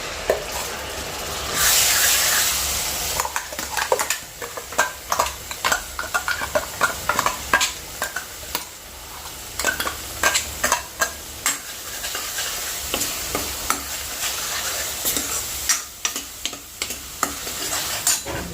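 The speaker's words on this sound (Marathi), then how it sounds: "यामध्ये आता हे वाटण छान असं परतवून घ्यायचं तेलामध्ये" Ground masala paste frying in oil in a kadhai, sizzling steadily while a spoon scrapes and stirs in repeated quick strokes, close and clear with no talk.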